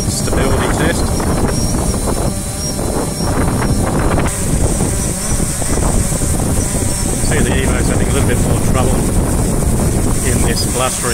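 Steady, loud wind buffets the microphone outdoors during a hover stability test of FIMI X8, Autel Evo and DJI Phantom 4 Pro drones, a continuous roar with no break.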